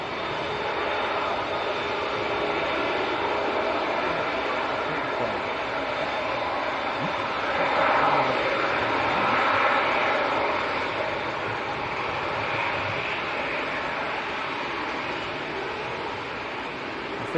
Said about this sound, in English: So this is the Emirates, the first A380 flight of the day going down to Dubai.